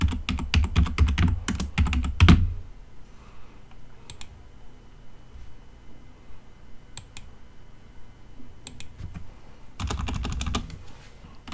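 Rapid bursts of close computer keyboard clicking as a bank card number is entered on an online payment account, with a long quiet gap of sparse taps between the two busy flurries.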